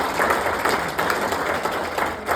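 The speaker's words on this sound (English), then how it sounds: "Okay, Lisa, give them another round of applause here." Audience applause at a live bluegrass concert, a dense, steady wash of many hands clapping together, fairly close and loud throughout with no talk over it.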